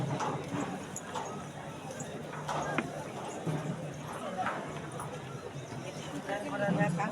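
Horses clip-clop along the crowded Vaishno Devi pilgrimage trail, steady hoofbeats mixed into busy outdoor bustle while someone talks over them.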